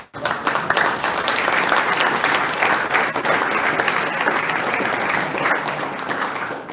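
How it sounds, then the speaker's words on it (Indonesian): An audience applauds a speaker at a talk on ecocide in Papua, giving a dense, loud, sustained round of clapping that starts abruptly and holds steady before tapering slightly. "sekali lagi kita memberikan aplaus kepada Bapak"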